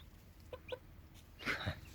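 A few faint, brief peeps from newly hatched chicks, two short chirps followed by a slightly louder burst, quiet and close.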